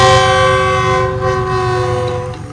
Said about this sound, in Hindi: वो रेलगाड़ी भी आ चुकी है।